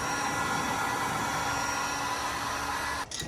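A heat gun warms the painted body of a Nissan Skyline R34 with a steady loud blowing whir and a faint whine, cutting off abruptly near the end.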